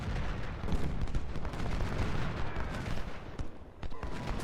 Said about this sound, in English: We do have a lot of artillery pounding away at this unit here